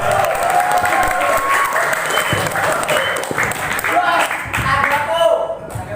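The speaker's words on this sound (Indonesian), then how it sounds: "Tepuk tangan untuk Imam Masjid Baitur Rauf." An audience at an Islamic boarding school leadership candidate debate applauds loudly and continuously for several seconds, a dense wash of clapping with a voice faintly over it.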